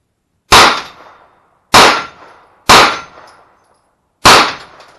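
Four loud, sharp shots from a Ruger 9mm carbine fired outdoors in snow, spaced about a second apart, each cracking hard and then fading with a short echoing tail, with nothing else heard.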